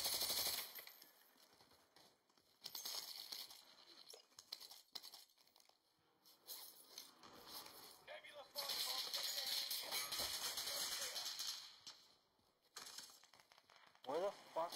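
Bursts of automatic gunfire from the battle royale game Apex Legends crackle in and out in irregular volleys over several seconds, with people talking in places.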